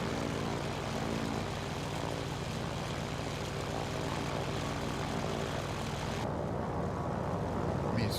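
A propeller airplane engine in a flight simulator game drones steadily and loudly throughout, with a constant low hum and whine that slightly changes tone near the end.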